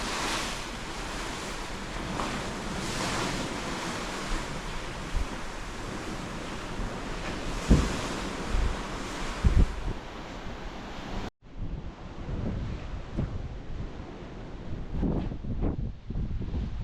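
Rough ocean waves seen from a deck 11 balcony cabin of the cruise ship Carnival Jubilee, a loud continuous wash of surf with heavy wind buffeting the microphone, the roar briefly cutting out and resuming slightly muffled, with no speech.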